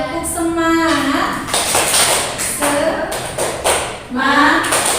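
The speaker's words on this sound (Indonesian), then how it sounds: "Coba tepuk semangat dulu ya." Classroom of students doing a rhythmic 'tepuk semangat' cheer clap, with bursts of taps and claps mixed with loud group chanting and voices throughout.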